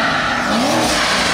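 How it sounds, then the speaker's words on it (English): A stock Corvette sports car engine roars steadily and loudly up close, with a rising whine partway through and a hint of tire noise. "We got a Corvette."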